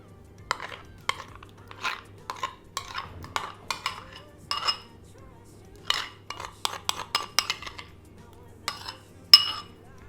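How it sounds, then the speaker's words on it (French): Pumpkin stuffing with pepper, blue cheese and fromage blanc is mixed in a bowl, giving a series of light, scattered clinks and scrapes of a utensil against the dish over quiet background hum, faint and close. "On mélange tout ça et on obtient notre farce."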